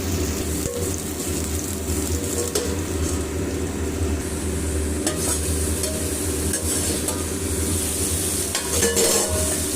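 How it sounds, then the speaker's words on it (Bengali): Chunks of bitter gourd and pumpkin fry in a pan while being stirred. A loud, continuous sizzle sits under repeated close scraping and light clinks of the spatula against the pan, with no one speaking. "এরপর ঢাকা খুলে আমি উচ্ছে আর কুমড়োটা একবার ভালোভাবে নেড়ে নেব।"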